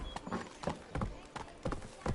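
Horse hooves clip-clop in a steady galloping rhythm in The Witcher 3, the thuds fairly quiet and evenly spaced across the stretch with faint background sound.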